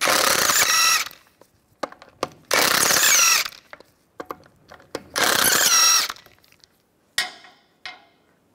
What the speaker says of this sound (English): Now we're going to remove the wheel, use a 17 millimeter socket,